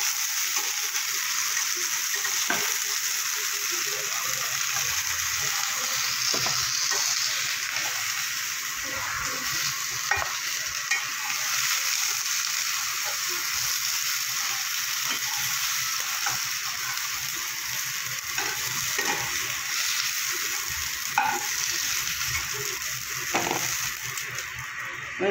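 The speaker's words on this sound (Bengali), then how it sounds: "চিচিংটা আমি হালকা করে একটু ভেজে নিয়েছি" Snake gourd sizzles and fries in a wok, a steady dense hiss running throughout with occasional scraping stir strokes, close and fairly loud with no talking.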